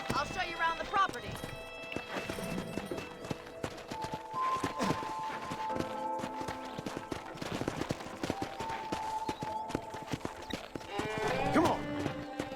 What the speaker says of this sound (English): let's see if you can still ride a horse. Giddy up!